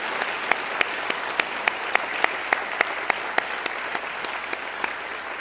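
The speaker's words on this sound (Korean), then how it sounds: "크게 박수 좀 쳐주세요" A church congregation claps steadily for two retiring elders at an evening service. The applause is dense and sustained, with a few sharp individual claps standing out in a fairly regular rhythm, and no talking over it.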